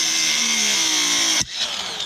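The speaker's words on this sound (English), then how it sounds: "We got the sawzall" A reciprocating saw runs steadily with a high, buzzing whine, then cuts off sharply and is followed by a brief rattle.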